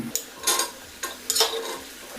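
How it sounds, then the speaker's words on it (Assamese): Chopped radish and potato are added to spices frying in a pan and stirred. Faint sizzling sits under a few distinct scraping strokes and clatters of a spoon against the pan, spaced irregularly and quiet overall, with no speech. "এতিয়া আমি কাটি ৰখা এই মূলা আৰু আলুখিনি দি দিম"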